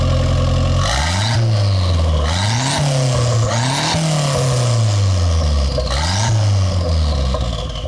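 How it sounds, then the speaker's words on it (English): A Consulier GTP's turbocharged four-cylinder engine revs repeatedly close by, rising and falling through several sharp throttle blips with loud, raspy exhaust and no talk. "even though this is a turbo four-cylinder, it sounds pretty good. Take a listen to the Consulier GTP."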